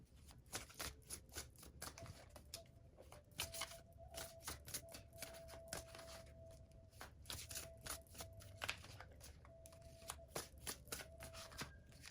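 A deck of cards is shuffled close up for a psychic reading, producing repeated crisp riffling flutters and soft taps, quiet and continuous.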